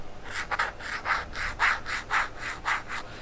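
Velvet-finish textured makeup palette packaging is rubbed in close, rhythmic strokes, about a dozen soft scratchy swishes in an even back-and-forth pattern, heard alone with no talking.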